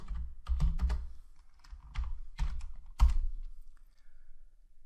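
Typing on a computer keyboard, a few short bursts of quick clacking keystrokes with brief pauses between, close and clear, with no talk over them.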